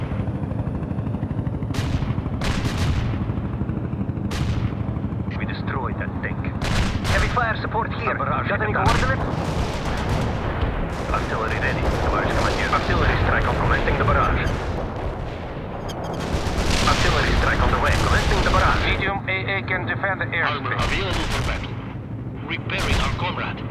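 Artillery barrage in the World in Conflict strategy game: repeated heavy booms and rolling gunfire blasts in dense bursts over about twenty seconds, with radio-style unit voices speaking between the shots.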